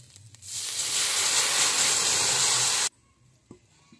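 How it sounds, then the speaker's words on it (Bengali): Cooked dal poured into a hot pan of oil fried with ginger, dried chillies and cumin, setting off a sudden loud hissing burst of steam that holds steady for about two seconds and then cuts off abruptly to quiet. "এবার আমি ডালটা ঢেলে দিচ্ছি।"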